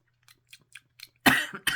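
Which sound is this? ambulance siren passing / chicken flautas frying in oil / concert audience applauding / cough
cough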